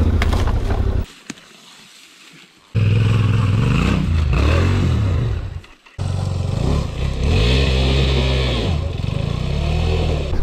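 Yamaha Tenere 700 and KTM 390 adventure motorcycles ride along dirt tracks, engines droning loudly and revving up and down, with a brief drop in sound partway through before the engine noise returns.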